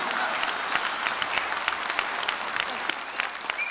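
Audience at a talk-show stage applauds in a sustained, moderately loud wave of many hands clapping, steady throughout.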